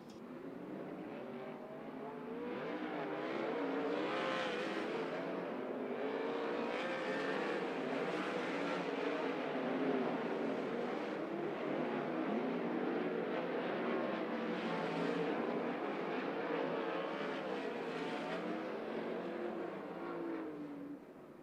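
About five race cars run a practice session at Skagit Speedway, engines roaring continuously as they circle the track, swelling and fading with each pass without a break.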